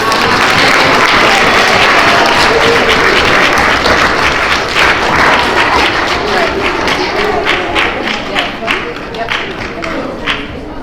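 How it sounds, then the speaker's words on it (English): Students at a school Character Education assembly for fourth to sixth graders applaud in a dense, loud, sustained wash of clapping that thins toward the end, with crowd voices mixed in. "let's give them a round of applause"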